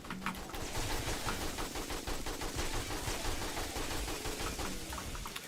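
AK rifle gunfire in the video game 7 Days to Die, rapid sustained bursts of shots filling the whole stretch, loud and close with a dense, continuous rattling rhythm.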